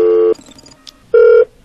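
Tones on a telephone call to the Taiwan High Speed Rail customer service line: two loud steady tone bursts separated by a quiet gap with a faint chirp, close and clear with no talk.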